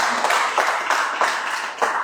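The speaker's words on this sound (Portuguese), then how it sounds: "Dá uma salva de palmas para o Senhor." Congregation clapping in praise during a church service, a steady dense patter of many hands with slight surges, no talk over it.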